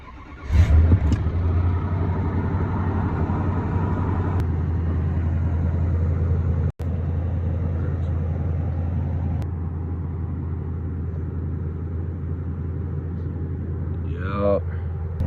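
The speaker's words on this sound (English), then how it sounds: "the cold start of my truck." A Nissan Titan truck engine cold-starting in snowy weather, a loud steady low idle rumble that catches right away and runs continuously, with brief speech at the end.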